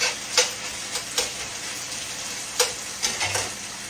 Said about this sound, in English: just let it fry until it gets crispy